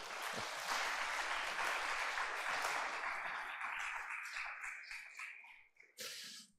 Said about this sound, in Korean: 박수로 한번 격려해 주십시오.